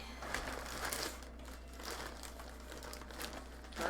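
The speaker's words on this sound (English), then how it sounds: "I think I probably need a little plastic bag to start putting stuff in" A medium-sized plastic bag crinkles and rustles in bursts during a beading session, fairly close and quiet over a steady low electrical hum, with no talking.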